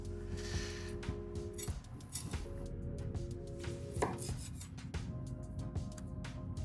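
A knife chops onions on a cutting board while cooking a Philly chicken cheesesteak, irregular close taps and scrapes with a steady sizzle-like hum underneath.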